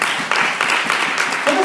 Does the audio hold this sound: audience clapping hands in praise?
yes